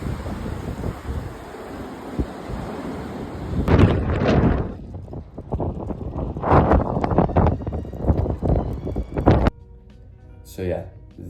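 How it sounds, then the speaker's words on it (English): Strong wind gusts into the microphone during an outdoor run, a loud, uneven buffeting rumble that swells and drops in bursts, with a voice heard over it. "I'm gonna put some clips of the wind"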